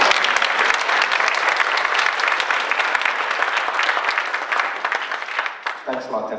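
A panel discussion audience gives sustained, loud, dense applause with some cheering for Dennis, a steady roar of clapping that tapers off near the end as a voice begins speaking.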